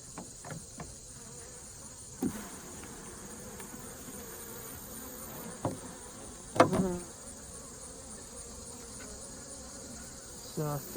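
Honeybees from a rebuilding colony, skittish and aggressive during a nectar dearth, buzzing around an open hive in a soft, steady drone, with occasional louder passes of individual bees flying close by.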